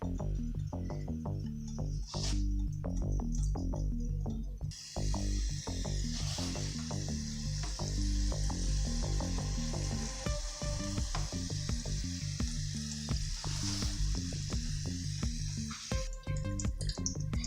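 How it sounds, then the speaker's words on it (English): Homemade corn dogs fry in hot oil, giving a loud, continuous sizzle with crackling pops and bursts of bubbling as they cook, close by and without any talk. "we're gonna get these in and start frying"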